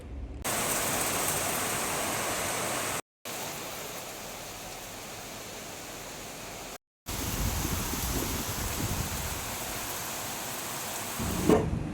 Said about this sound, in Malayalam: ദാ മഴ അങ്ങോട്ട് തകർക്കാൻ തുടങ്ങി